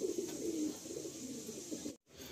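Madras pigeons, a house-kept breed, coo in low repeated throaty pulses throughout, fairly close, with a brief dropout near the end and no talking.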